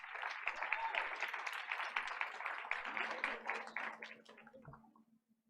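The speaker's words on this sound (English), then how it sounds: "Let's give her a round of applause." An audience at a board of education meeting claps in a warm burst of applause that holds for a few seconds, then thins out and fades to silence.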